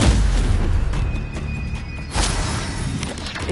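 Stupefy spell impacts in the game Hogwarts Legacy: heavy booming thuds with a crackling burst, a strong hit at the start and another around two seconds, over dense ongoing combat noise.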